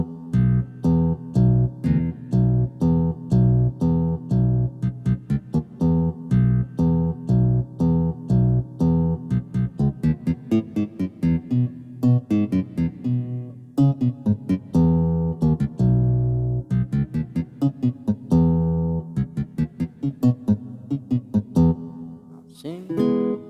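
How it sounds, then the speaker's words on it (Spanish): Yamaha MODX8 synthesizer guitar preset played in a low register with bass notes, a steady rhythmic chordal accompaniment continuing for over twenty seconds without pause. "Y lo tocamos un poco grave, suena así, con los bajos."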